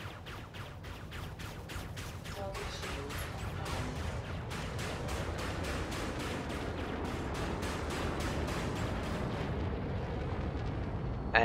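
Low-heat pulse lasers fire in Elite: Dangerous, a steady rapid stream of sharp, evenly spaced energy bolts over a dense rumbling bed, loud and continuous throughout.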